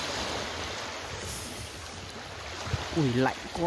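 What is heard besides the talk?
sea waves and strong wind on a cold coast in Japan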